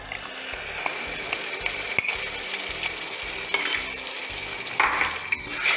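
Onions and a ground spice paste sauté in a pan for an Easter egg curry, giving a steady close sizzle with occasional spoon scrapes and clinks against the pan.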